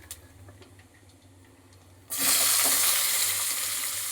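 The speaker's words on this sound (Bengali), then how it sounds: "লাল লাল করে ভেজে নিতে হবে" Chopped onion drops into hot oil already tempered with two dried red chillies, and a loud, steady sizzle suddenly takes over from a quieter pan hiss, holding strong with no talking.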